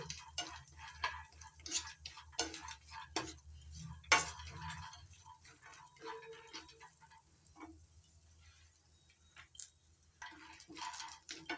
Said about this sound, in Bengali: তেঁতুল দিয়ে ভেজে নিচ্ছি।